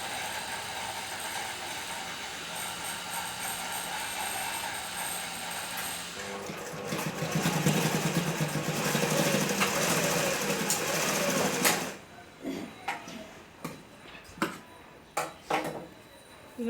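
A domestic sewing machine stitches a kunchigi, a traditional baby hood, running in a steady whirring burst that swells louder midway, then breaks into short separate stitching spurts with pauses between them.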